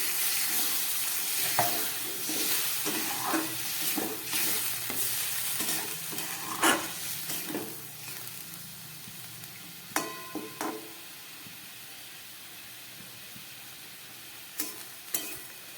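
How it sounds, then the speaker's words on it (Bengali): A vegetarian potato curry (aloo dum) bubbles in a pan after water is added, with a continuous simmering hiss broken by soft pops and occasional louder bubbling bursts. "একদম ফুটে উঠেছে।"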